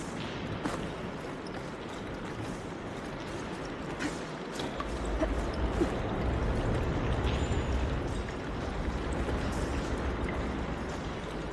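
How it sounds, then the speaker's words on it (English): Steady flowing water rushes continuously in Horizon Forbidden West, with faint mechanical creaks and clanks mixed in; a constant, moderately loud wash with no talking. "Aloy, I can hear water in the room again."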